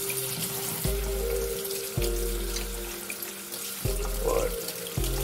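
Water from a kitchen tap runs in repeated bursts as raw sea moss is rinsed and cleaned, the flow switching on and off several times with splashing in the sink.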